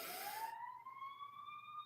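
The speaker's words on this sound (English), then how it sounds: "there is a siren going off" A siren going off outside, a single faint rising wail that sweeps upward and holds, distant and alone.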